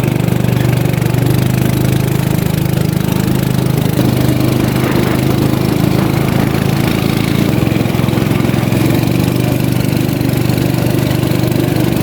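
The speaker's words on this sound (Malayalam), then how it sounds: "ഗിരീഷ് ഇതല്ലേ സ്റ്റാർട്ട് ചെയ്യുന്നത് മോട്ടോർ വെച്ചിട്ട്" A small go-kart engine runs steadily and loudly throughout, a rough continuous drone with no talking.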